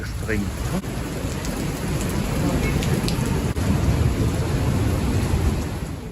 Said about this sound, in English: a severe hailstorm hit cities in southern Germany